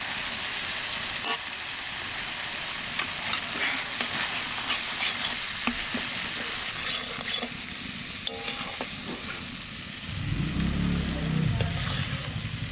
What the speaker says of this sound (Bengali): মশলা ভাজা হয়ে গেছে এখন কুমড়োগুলো দিয়ে দেবো